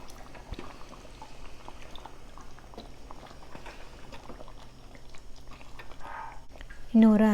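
Mutton crackles and sizzles steadily in a pot, then a louder rush of water being poured in near the end.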